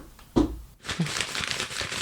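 Paper being crumpled up close, a dense crackling rustle with a sharp crinkle early on, then continuous scrunching to the end.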